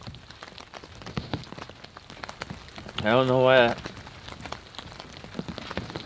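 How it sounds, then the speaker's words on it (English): Rain patters steadily outdoors in the Canadian Rockies, a close, dense crackle of drops that carries on throughout, briefly overlaid by a loud tonal voice-like sound and a short spoken remark. "If this rain would just stop, we can get some more adventure going here."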